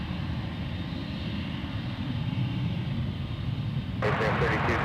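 UPS cargo plane at Anchorage's Ted Stevens airport, a steady low engine rumble throughout that brightens into a louder hiss and roar near the end, at moderate distance with no talk.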